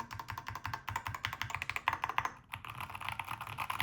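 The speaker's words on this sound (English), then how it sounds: "So that's what the keyboard sounds like." Rapid, close-up typing on a Keychron K2 HE magnetic switch keyboard, with a dense run of crisp keystrokes, a brief pause, then more steady clacking.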